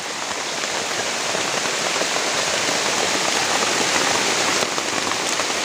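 Heavy rain hammers down in a forest, a loud, dense and continuous roar of drops striking leaves and ground, steady from start to finish with no voices.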